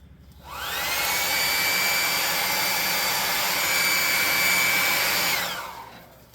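Hot air gun switched on to dry paint on a miniature, a steady close whirring blast with a high whine, running about five seconds before cutting off.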